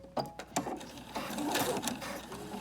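A sewing machine stitches a few stitches forward and then a few in reverse, giving short bursts of rapid mechanical whirring and clicking with brief pauses between them, heard up close.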